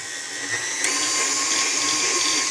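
A stand mixer fitted with a dough hook kneads pizza dough made from flour, water, salt and oil, giving a steady close whirring motor drone with a faint rhythmic churn and no voices.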